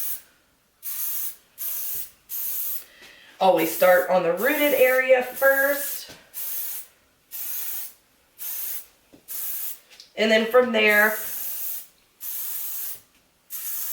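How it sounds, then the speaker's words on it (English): Quick repeated bursts of a heat protectant spray bottle misting hair near the roots, a steady rhythm of short hisses, with someone talking over it at times. "I'm gonna spray this from not up against the root, pretty close to the root"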